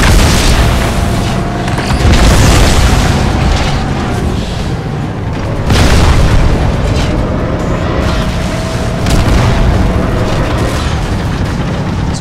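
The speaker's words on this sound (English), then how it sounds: "Well, you're gonna get a grenade on you." Grenade blasts from the Halo 2 video game boom heavily twice, each a deep burst with a long rumbling tail over constant loud battle noise.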